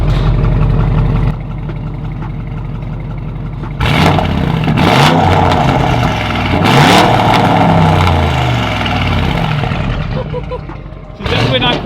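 Ford F350 pickup with an open exhaust, engine idling loudly before being blipped through several hard revs that roar and fall back, close to the microphone with voices talking around it.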